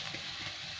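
Capsicum, onion and onion greens stir-fry for chowmein with a brief, soft sizzle and a light scrape of stirring, short and close.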